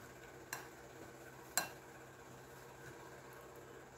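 A spoon stirs a rice patty mixture with tomatoes and ham in a glass bowl, giving soft scraping and two sharp clinks against the bowl, quiet and close.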